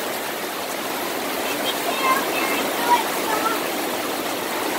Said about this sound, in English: Our road is already flooding.